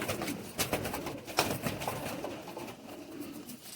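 Teddy breed pigeons coo softly and repeatedly close by, low throaty burbles over a steady background hum.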